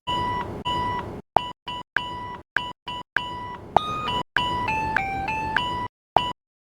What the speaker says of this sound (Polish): dźwięk odmowy w bankomacie to jest dokładnie ten sam dźwięk